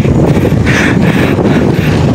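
Steady wind roars and buffets across the whole stretch during a bike ride in Alabel, Sarangani, a broad rushing noise with no voices.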